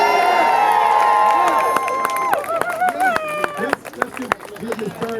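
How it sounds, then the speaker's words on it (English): At a Juneteenth celebration in Washington D.C., a crowd cheers and claps. Raised voices whoop and shout in bursts over scattered applause close by. "Hey, listen, let's give a round of applause"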